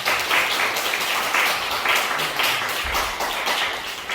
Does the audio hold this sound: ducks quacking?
no